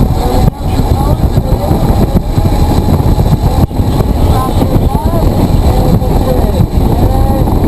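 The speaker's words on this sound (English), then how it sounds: "we'll start rolling smoothly on the throttle, let it come out all the way back" A Nissan GT-R accelerating out of a corner on the Blackhawk Farms Raceway track, its engine a steady loud roar throughout with rising tonal sweeps, heard from inside the car over continuous road and wind noise while an instructor talks.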